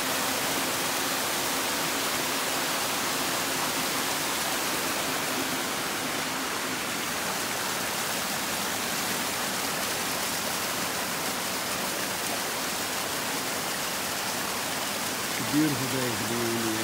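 A clean mountain stream in the Smokies, near the Appalachian Trail, rushes with a steady, loud, unbroken hiss of flowing water that stays constant throughout.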